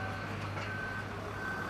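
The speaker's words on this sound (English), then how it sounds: "You can see now that lorry is on its way back." A lorry reverses on a residential building site, its engine rumbling low and continuous while a thin, faint reversing beep sounds intermittently over it.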